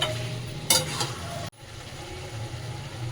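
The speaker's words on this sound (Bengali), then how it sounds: "খালি মাংসকে কষিয়ে যাও।" Chicken pieces frying in oil in a pan while being stirred, a steady close sizzle broken by a couple of sharp scraping clatters from the spatula and a sudden clunk midway, no voices.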